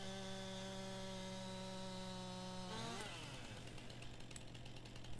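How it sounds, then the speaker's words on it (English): A chainsaw in Farming Simulator 19 drones at steady idle, then revs up and bites into a tree, the pitch shifting as the cut grinds on loud and close. "turn the chainsaw so it runs alongside the tree"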